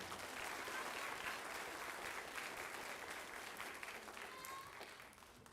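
Steady applause from the audience at a school spring band concert honoring the 5th period band, a dense even wash of many hands that carries on for several seconds before easing slightly toward the end.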